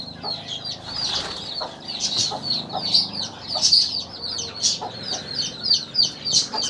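Chickens cluck busily on a farm in winter, with many birds chattering in a dense, overlapping stream. Sharp squawks and occasional wing flaps rise above the flock, close by and fairly loud throughout.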